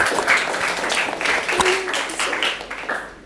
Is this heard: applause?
yes